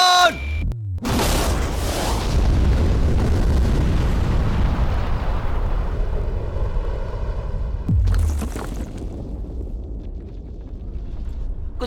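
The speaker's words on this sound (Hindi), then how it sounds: "लेकिन ये एक असली धमाका है" A huge blast destroys a safe: one sharp, very loud boom near the start, then a long roaring rumble of debris and aftershock for several seconds, a second thud around eight seconds, and a fading echoing tail afterwards.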